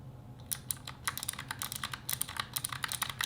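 Rapid typing on a Razer Huntsman Mini 60% mechanical keyboard, crisp clicky keystrokes in an uneven rhythm, close up and alone with no voices.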